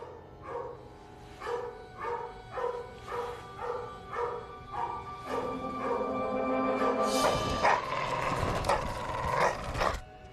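A dog barks in a steady series of sharp yelps, about one every half second, then a louder, denser burst of noise swells and continues near the end.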